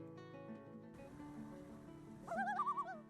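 A common loon gives its tremolo call, a quick wavering, laughing warble lasting under a second, heard faintly over a low tonal background.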